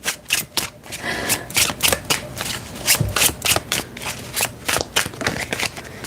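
A deck of leather-scented tarot cards is shuffled by hand in quick repeated riffles and flicks, close and crisp, with no talking.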